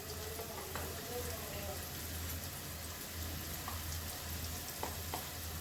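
Pumpkin pieces fry in a pan with turmeric and a kalonji tempering for rohu fish curry, giving a quiet, steady sizzle with occasional faint pops and clicks, heard close.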